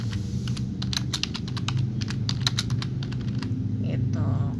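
Rapid, light keystrokes clatter on a computer keyboard at close range, steady throughout, with a low murmur of speech beneath during a Zoom meeting.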